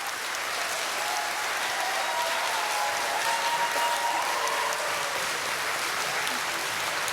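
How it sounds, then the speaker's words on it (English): A large room of attendees at an annual town meeting claps in sustained, dense applause that stays loud and even throughout without pause. "Please stop the applause."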